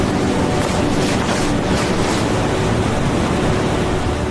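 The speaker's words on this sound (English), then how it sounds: "I listened to the waves." Steady broadband wash of Pacific ocean surf under clear open-air conditions, a continuous rushing roar with slight swells, fairly loud and close, no voices.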